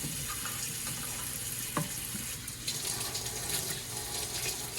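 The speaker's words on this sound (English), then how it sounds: "I'm just going to rinse my blade off." Tap water runs steadily over a knife blade being rinsed clean after cutting raw meat and bone for raw dog food, a continuous splashing hiss with a brief clink partway through and no talking.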